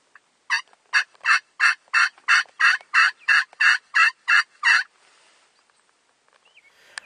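A wild turkey gobbles during a spring turkey hunt in Wisconsin, a rapid burst of about a dozen loud, evenly spaced rattling notes delivered in quick succession, then near silence with faint background sounds.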